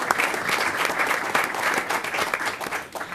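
Steady audience applause at a school district board meeting, a dense wash of many hands clapping throughout, moderately close and loud, tapering slightly at the end.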